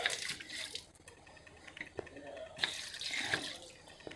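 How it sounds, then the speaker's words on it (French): Water runs from the tap of a public outdoor fountain, splashing in uneven bursts that fade and swell, heard close at low level. "Donc, il y en a un robinet là, une fontaine."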